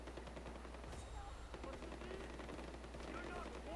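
Gunfire in the video game Far Cry 4 crackles in rapid bursts and scattered single shots at a fairly faint level, with a voice talking over it.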